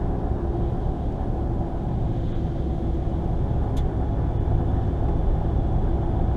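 A car engine drones steadily from inside the cabin while driving, a continuous low rumble with road noise at even loudness throughout, no talk.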